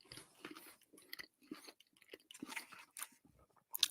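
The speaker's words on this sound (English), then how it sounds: "I'm chewing." A person chews a bite of hot dog close to the microphone, with soft wet munching and irregular crunchy bites in quick succession and short pauses between them.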